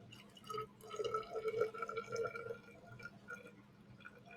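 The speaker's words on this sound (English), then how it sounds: "we're just going to fill that up to that 50 milliliter mark" Water runs into a plastic graduated cylinder, filling it to the 50 mL mark in a close, quiet trickle with rising tonal ringing as the level climbs, steady for a few seconds before tapering.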